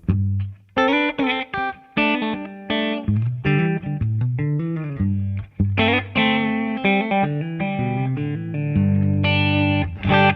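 A PRS SE Custom 24 electric guitar with humbucker pickups plays thick, chunky distorted chords and riffs with a heavy, saturated tone.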